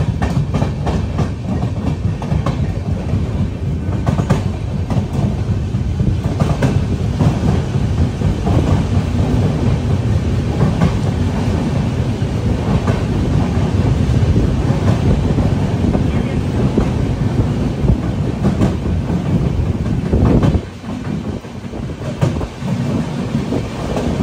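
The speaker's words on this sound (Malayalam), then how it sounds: "ട്രെയിൻ ഇതാ കായംകുളം റെയിൽവേ സ്റ്റേഷനിലേക്ക് എത്തിക്കൊണ്ടിരിക്കുകയാണ്." A Sampark Kranti Express train rolls into Kayamkulam railway station, a dense, continuous rumble of wheels and carriages with steady wind buffeting, briefly dipping near the end before resuming.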